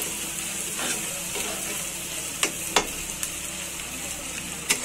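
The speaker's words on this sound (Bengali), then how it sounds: "দেখো এখন ডিম সব ভেজে নিচ্ছে ডিম আলু" Eggs and potatoes frying for chowmein, giving a steady sizzle throughout with a few sharp clicks of a utensil against the pan near the end.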